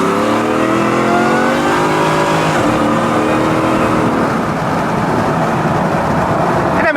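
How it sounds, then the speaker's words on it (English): A supercharged car accelerating hard, the supercharger whine rising steadily in pitch over loud engine roar, close and continuous throughout. "You have to get up to speeds that are slightly illegal for the supercharger to really whine."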